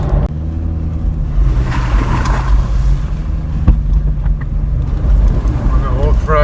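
A GWM Tank 300 diesel SUV drives on a gravel track at night, its engine a steady low rumble with tyre and wind noise throughout and no break.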